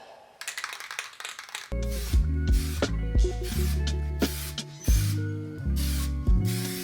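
Superwrap coating hissing from an aerosol spray can: a short burst first, then a long run of loud, close spraying in back-and-forth passes, each stroke swelling and briefly easing.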